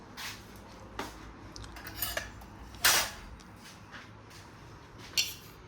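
Metal cutlery rattles and clinks in a home kitchen as a teaspoon is fetched, with scattered close taps and one louder clatter among quieter handling noises.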